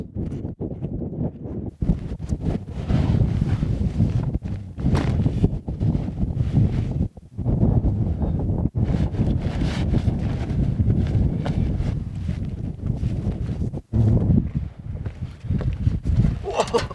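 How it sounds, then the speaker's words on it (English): Strong wind on a snowy mountain in whiteout conditions buffets the microphone with loud, rumbling gusts that come and go throughout, with brief gaps between blasts. "There's a lot more wind as well today."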